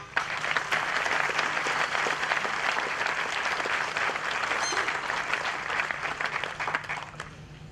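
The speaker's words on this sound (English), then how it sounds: "Please give them a round of applause." A crowd at an outdoor Memorial Day ceremony in Bonita Springs applauds the city park maintenance staff, sustained dense clapping from many people holding at an even level throughout.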